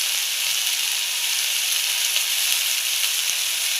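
Potato fry sizzles steadily in a pan, a continuous close hiss of hot oil with no talk.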